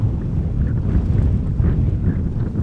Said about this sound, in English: It is another windy day.